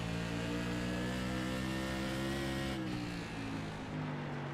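Loud, steady engine roar of modified racing cars at Thompson, pitch rising and falling slightly as they pass through a turn, continuous throughout.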